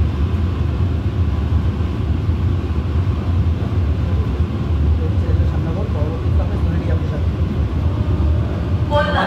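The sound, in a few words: Sealdah–Kalyani AC EMU local train running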